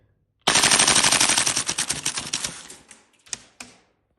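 A Tokyo Marui MWS airsoft rifle firing on full auto: a fast, dense mechanical rattle of shots for about two seconds that slows and trails off into a few final separate pops, close and loud, no talking.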